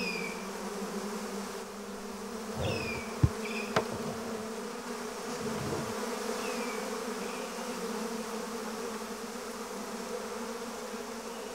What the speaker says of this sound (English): feral honeybees are damaging the plant life of the island